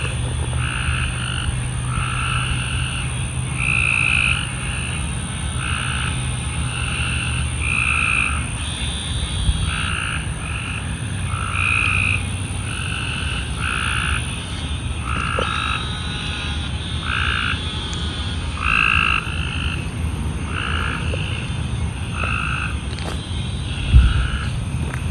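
Frogs croak in a Louisiana swamp bayou, a dense chorus of repeated rhythmic calls pulsing steadily throughout over a constant low hum of insects and background ambience, with one brief knock near the end.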